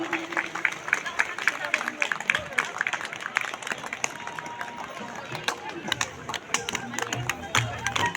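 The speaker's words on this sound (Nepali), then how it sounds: "उपस्थित सम्पूर्ण महानुभावहरूलाई जोरदार ताली बजाइदिनु हुनको लागि पनि" Dense, sustained applause from a ceremony audience at the Mongol National Organisation's 37th foundation day, steady throughout with a voice speaking over it.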